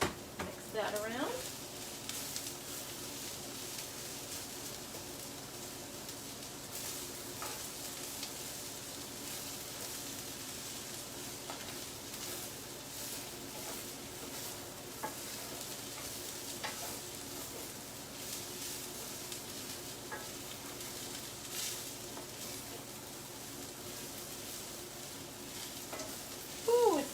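Garlic frying in a hot pan is stirred for a spicy greens and potato frittata, with a low, steady sizzle and soft scraping passes from a utensil throughout, faint and close.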